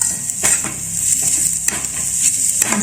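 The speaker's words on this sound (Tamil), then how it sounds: "ஆயிலில் நல்லா சூடானதுக்கப்புறம் அதுக்கப்புறம் கருவேப்பிலை, 2 பெரிய வெங்காயம் கட் பண்ணதை போட்டு நல்லா வதக்கிக்கிறோம்." Two chopped large onions and curry leaves sauté in hot oil for a goat trotter paya, with a loud, bright sizzle and repeated spoon scrapes and clinks against the pan.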